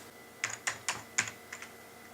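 A handful of crisp key taps clatter close by in a brief, uneven burst, with short pauses between strokes, typed on a computer keyboard beside an Apple ImageWriter II printer.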